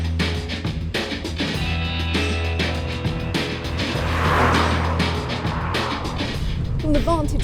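A 2-litre turbocharged hot hatch drives past with a steady engine drone that swells and fades, loud and close, with a brief chirp near the end.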